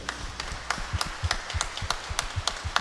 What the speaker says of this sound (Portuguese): com uma salva de palmas para o Rei Jesus